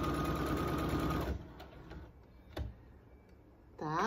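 A sewing machine stitches a wallet with a rapid, rhythmic clatter, stops for back-stitching, then gives a few faint ticks before a short whirring burst returns at the end.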